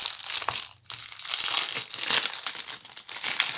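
Plastic packaging from a diamond painting kit crinkles and crumples close up while it is unwrapped by hand, giving a run of dense rustling bursts with a short pause near the start and no talk.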